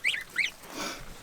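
Two loud, nasal goose honks in quick succession, followed by a softer, breathy rustle.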